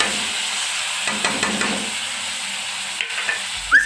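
Turmeric, chili, coriander and green chutney fry in hot oil for a Sindhi okra and potato dish, making a hissing sizzle that swells with a short burst of stirring and then settles.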